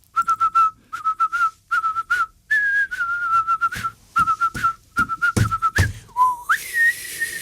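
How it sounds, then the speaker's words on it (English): A person whistles a series of short, breathy notes in quick bursts with brief pauses, finishing on a longer sliding whistle. "See, that's not much of a whistle, is it?"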